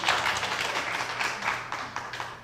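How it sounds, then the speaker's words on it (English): Audience members clap at a county Board of Commissioners regular meeting, a dense, steady patter of many hands at moderate distance lasting a few seconds, with a faint low hum underneath and no talk over it. "Please don't clap."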